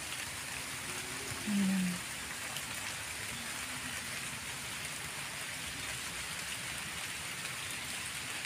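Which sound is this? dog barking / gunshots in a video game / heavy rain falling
heavy rain falling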